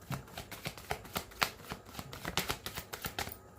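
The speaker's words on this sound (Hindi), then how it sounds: "last shuffle Prabhu" Tarot cards are shuffled by hand in a series of quick, close, crisp riffles and slaps, arriving in irregular bursts with no voice.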